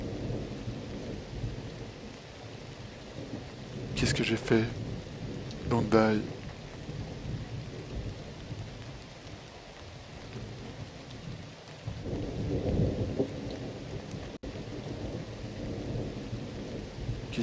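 Rain and thunder in the video game Vandal Hearts, a steady wash of rain under a player's speech with a couple of sharp crackling thunder bursts early on and a later rumbling swell.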